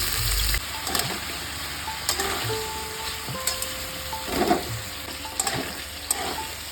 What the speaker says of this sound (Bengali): ভালো করে কাঁচা কলাটা ভেজে নিতে হবে